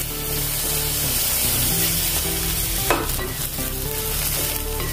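Chopped garlic and ginger frying in a pan with paneer pulao ingredients, a dense continuous sizzle and crackle filling the clip, steady and close with occasional stirring scrapes.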